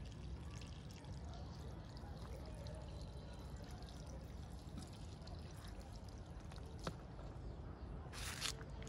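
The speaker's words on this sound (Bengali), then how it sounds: "বিভিন্ন দিকে যদি আপনি ছড়িয়ে ছিটিয়ে পানি দেন, তখন সব দিকের মাটিগুলো সমান পরিমাণে ভিজবে।" Water poured over dry, sun-baked soil in rooftop garden plant pots makes a steady, soft, continuous splash and trickle with faint background noise.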